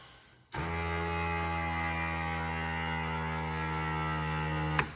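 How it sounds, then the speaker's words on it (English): A small air compressor in the seat of a Cub Cadet Pro Z 972 zero-turn mower starts abruptly and runs with a steady electric buzzing hum for about four seconds, then stops with a click. "Air compressor pushes air back in."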